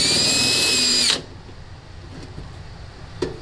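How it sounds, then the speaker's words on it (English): A drill bores out plug welds in the floor pan of a 1978 Ford F-100 pickup, a loud high whine for about a second that stops abruptly, followed by quiet room tone and a faint clunk. "So that's where they're both drilled out now"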